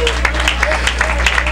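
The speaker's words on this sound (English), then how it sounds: "come on, give him a hand clap of praise" A church congregation claps in praise, a busy, loud patter of many hands under a voice and a steady low hum, the claps coming in quick uneven bursts.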